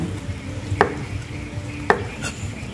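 A knife chops goat heart finely for dog food, two sharp, distinct strikes about a second apart over a low steady background, with no talking.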